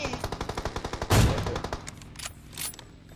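A DP machine gun sprays fire in PUBG Mobile: a rapid, even burst of about a dozen shots, then a loud impact and a few scattered fainter shots trailing off, with no talk.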